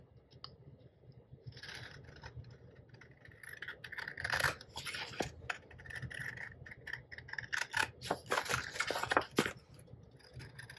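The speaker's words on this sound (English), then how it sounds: "I am just going to cut this edge of the paper off" Scissors cutting the edge off a sheet of sublimation paper for a 30oz tumbler wrap, a run of soft snipping and crisp paper rustles that comes in irregular bursts close to the mic, with no voices.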